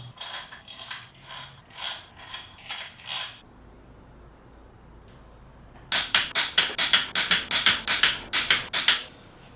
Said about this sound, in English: Can't lie, this torque wrench has been very satisfying to use.